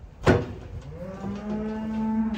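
Cattle on a farm moo once, a single drawn-out low call rising in pitch and held, fairly close, after a brief thump, with no talk.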